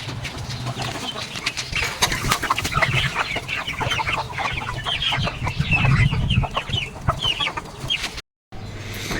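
Chickens cluck and chatter close by, a busy overlapping flock of short calls that continue throughout.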